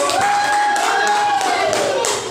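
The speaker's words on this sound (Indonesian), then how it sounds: "Di sini tepuk tangan dulu" Hand clapping by a group during a classroom teaching practice session, a loud run of claps close by with overlapping voices and a tonal sound sliding through.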